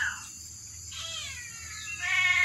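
High thin meows from a young kitten, two or three drawn-out calls over a quiet background, near and fairly soft.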